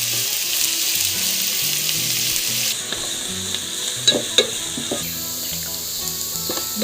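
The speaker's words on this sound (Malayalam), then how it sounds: "ഉള്ളി വഴറ്റി ഉള്ളി നന്നായി ഒന്ന് വഴറ്റിയെടുക്കാം" Onions sauté in a pan for Kannur-style prawn rice, a loud, dense, continuous sizzle with a few metallic scrapes of stirring toward the end; faint tonal background sound underneath, no speech.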